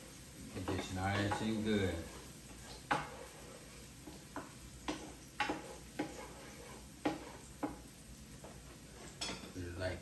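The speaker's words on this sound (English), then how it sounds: "I'm just gonna mix this up a little more." A spoon scrapes and knocks around a pan of onions being stirred for smothered chicken, with scattered clinks over a low sizzle, and a voice talks briefly at the start.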